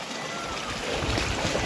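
Water flows in a steady, soft rush, a continuous hiss without pauses.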